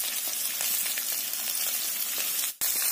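Onions dropped into a pan of pork frying in its own rendered fat, giving a loud, dense, continuous sizzle up close with a brief dropout near the end.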